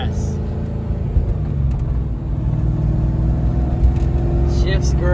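Fox Body Mustang with a swapped-in GT500 engine driving on the road, a steady loud engine drone and low rumble running throughout, with people talking over it inside the car.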